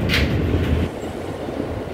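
New York City subway R160 E train running on the 8th Avenue local and Queens Boulevard express line, a steady loud rumble and clatter of wheels on track heard from inside the car, with no talking.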